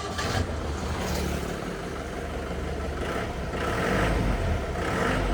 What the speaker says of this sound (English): You can see I will just press my foot and the engine will crank up.